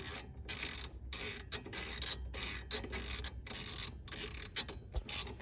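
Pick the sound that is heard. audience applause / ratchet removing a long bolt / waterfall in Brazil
ratchet removing a long bolt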